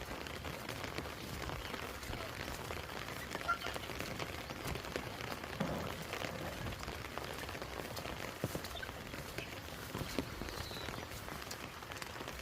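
Steady rain falling outdoors beside a farm pond, a soft, even patter on surfaces with no voices, fairly quiet and continuous.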